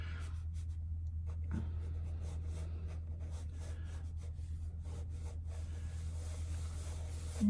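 A pencil scratches and rubs across a sketch pad while a circle is drawn, soft intermittent strokes over a low steady hum, close and fairly quiet, with no speech.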